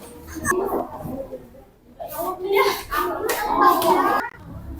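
Children in a classroom clap in scattered bursts for a group, mixed with kids' voices and chatter, coming and going at close range.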